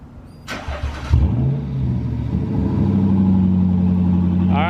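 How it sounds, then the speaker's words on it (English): A Jaguar XK 5.0 V8 with its muffler deleted cold-starts: a sharp crank, a loud bark as it catches, then a steady, rumbling idle close by. "Now it finally sounds like a V8."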